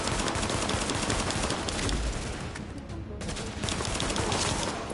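Bursts of gunfire in The Division, dense overlapping shots in a loud chaotic firefight with a brief lull midway before firing resumes.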